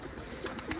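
Soft, brief cooing from a female fancy pigeon in a loft, a few low murmuring coos repeated close by, with no talk.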